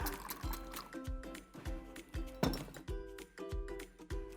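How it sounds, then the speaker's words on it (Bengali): Milk Vita liquid milk, about one cup, being poured into a bowl as a soft, quiet liquid trickle and splash, with repeated light clinks and taps alongside. "এখানে মিল্ক ভিটা তরল দুধ দিচ্ছি আমি 1 কাপ পরিমাণ।"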